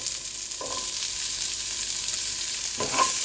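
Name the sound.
sautéing garlic and bell pepper in a pan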